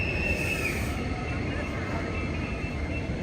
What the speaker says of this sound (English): Uh-oh, a train, huh?